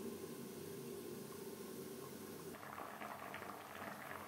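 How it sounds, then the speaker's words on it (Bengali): Rasgulla simmering in nolen gur jaggery syrup inside a covered pot: a soft, steady boiling hiss that turns livelier and more bubbly about halfway through, with no voices. "কুড়ি থেকে 25 মিনিট বেশ ভালো করে ফুটিয়ে নেব"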